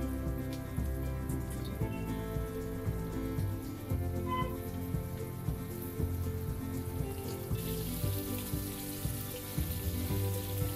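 Rava-coated prawns fry in hot oil, a dense, even crackle and hiss that runs steadily throughout at moderate volume, with a brighter burst of sizzle near the end.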